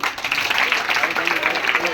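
Schoolgirls at a free pens and books handout event for International Women's Day break into steady group applause, a dense patter of many hands clapping at once.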